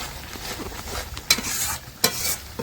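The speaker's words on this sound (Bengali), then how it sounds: "তেলের ওপরে মশলাটা ভালো করে কষিয়ে নিচ্ছে" Spice paste with bay leaves sizzles in oil while being stirred for a chicken curry, a close scraping stir under the frying hiss and two sharp clatters of the spoon on the pan.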